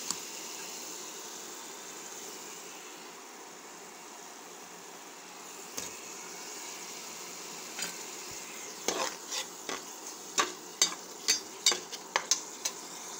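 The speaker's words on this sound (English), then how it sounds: "now I am going to add cut onions" A quiet, steady sizzle of cut onions frying in a pan, joined later by a series of sharp clinks and scrapes of a utensil stirring.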